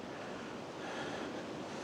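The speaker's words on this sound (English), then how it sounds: "Nothing like a creek and the sound of a creek." Steady, broadband rush of a creek flowing beside a Colorado campsite, continuous and fairly close, with no voices over it.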